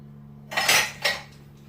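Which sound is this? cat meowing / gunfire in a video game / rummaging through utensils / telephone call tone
rummaging through utensils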